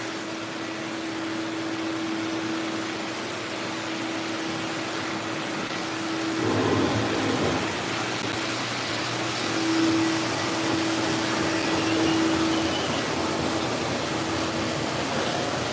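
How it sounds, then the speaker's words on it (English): A wet vacuum sucks standing water off a floor during rug cleaning, a steady loud whooshing drone with a constant hum that surges slightly partway through. "We are going to vacuum up the water on the floor here, so it's going to get a little loud"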